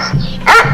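A dog gives a single loud, sharp bark close by, cutting through a low background rumble.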